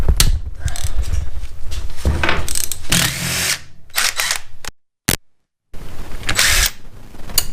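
A ratchet wrench clicks and turns as large nuts are loosened from the top of a 1965 Honda Dream CA95 engine case, with close, busy metallic ratcheting in steady bursts and a brief pause near the end.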